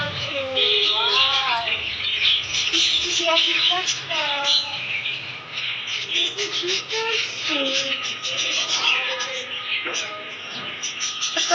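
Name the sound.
chickens and pigeons at market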